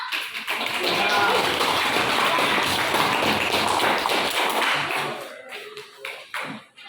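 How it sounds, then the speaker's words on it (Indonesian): A group receives applause: a dense, steady wash of many hands clapping at once for about five seconds, then thinning into a few scattered claps and small room noises. "yuk kita kasih aplaus tepuk tangan untuk kelompok"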